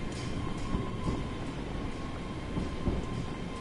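Trains rumble past at a station in a railway video game set around Glasgow Central, a steady low roar of rolling wagons with faint rhythmic clatter throughout and no voices.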